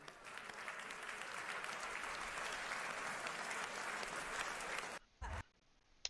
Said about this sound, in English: one round of applause for our FIA Personality of the Year, Lewis Hamilton